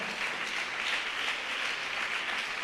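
Church congregation applauding together in a steady, dense wash of clapping at moderate level, with no voices standing out.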